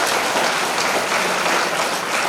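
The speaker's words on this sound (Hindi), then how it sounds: "एक बात जोरदार तालियों में रखो।" An audience at a Hindi spiritual discourse claps loudly, a dense, steady roar of applause that fills the short stretch with no speech.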